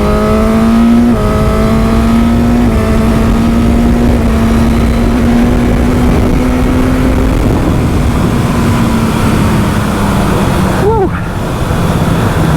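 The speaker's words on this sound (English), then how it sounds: "Wonderful motor, absolutely brilliant, from the sound of the exhaust note all the way to how it pulls seamlessly." Suzuki GSX-S1000 motorcycle engine and exhaust holding a steady, loud drone that slowly falls in pitch as the bike cruises, with a short sharp rev blip near the end.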